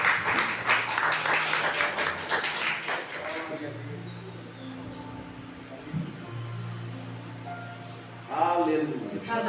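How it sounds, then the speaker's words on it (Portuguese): Congregation applause at a Baptist family service, brisk clapping for the first few seconds that gives way to a sustained low hum and a voice speaking, with a short burst of sound near the end. "Aplauda o Senhor em nome de Jesus, amém?"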